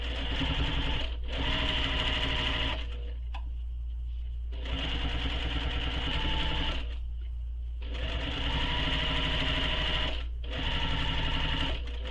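Sewing machine top stitching across a backpack strap, crossing earlier rows of stitches: steady close motor whir in three long runs separated by short pauses, no talking.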